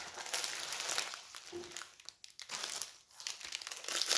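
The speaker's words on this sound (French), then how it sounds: "Maintenant, on va déballer la deuxième" Crinkly plastic packaging of a diamond painting kit is unwrapped close up, with steady rustling and crackling that swells and dips in short bursts and no talking.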